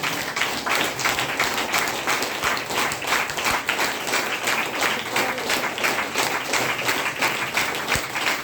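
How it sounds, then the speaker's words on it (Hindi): An audience at a wellness training program applauds together, a dense, sustained wash of clapping that stays even and fairly loud throughout. "खूब जम के ताली बजाइए"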